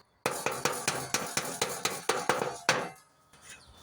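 Repeated metal hammer blows on a nut threaded back onto a shaft to free the pulley of a 1979 lawn tractor under restoration, about a dozen sharp ringing strikes in steady rhythm, close and loud, with a final heavier hit before quiet.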